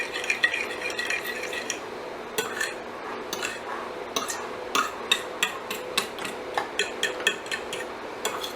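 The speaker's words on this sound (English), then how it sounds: "I'm just going to give it a stir" A spoon stirs eggs and yogurt together in a metal pot, scraping and clinking against the sides in steady, close strokes that turn sharper and more regular toward the end.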